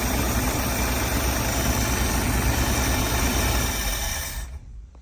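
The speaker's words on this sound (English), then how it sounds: "That should be long enough idle for you to take off and start driving, and slowly open up that choke." A 1968 car engine idles roughly and steadily up close after a cold start with the choke pulled, then shuts off abruptly near the end.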